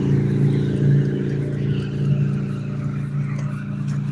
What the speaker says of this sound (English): There's another motorcyclist.